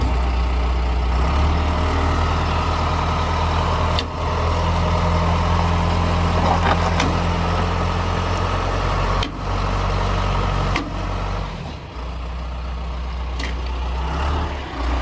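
A heavy truck pulls grain trailers sideways while hauling canola, its engine rumbling low and loud throughout with periodic sharp clunks and knocks from the strained rig.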